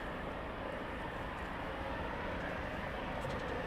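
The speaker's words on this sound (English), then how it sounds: "Sounds like another helicopter's getting ready to get up." A helicopter powering up for takeoff at an RAF airfield gives a distant, steady broadband rumble and whine that stays fairly faint throughout, with no voices over it.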